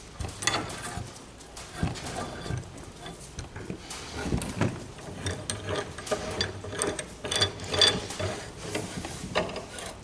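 A hand ratchet tightens a bolt on a homemade trailer tailgate, giving repeated close clicking strokes in uneven bursts, with scraping and clanking of metal between them.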